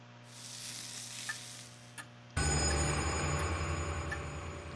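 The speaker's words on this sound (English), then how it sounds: "Noise from the broadcast reverberates in the room." Broadcast noise from the horror video game Death Mark: a quieter hissing static gives way at about the midpoint to a loud, dense crackling roar with steady tonal hums running underneath.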